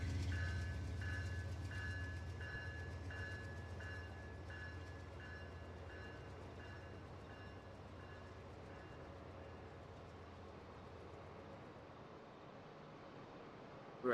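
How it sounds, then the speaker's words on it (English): A P42 locomotive runs in the Rail Sim Universe game, a steady low diesel rumble with faint repeating tonal chimes above it, holding at even loudness for the whole stretch before a brief loud burst at the very end. "Very powerful engine, this P42."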